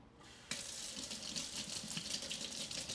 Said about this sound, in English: when I'm about to fill this with water